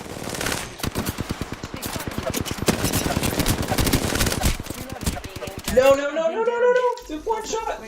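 Rapid R99 submachine gun fire in Apex Legends rattles in long dense bursts near and loud, ending around six seconds as game effects and voices take over.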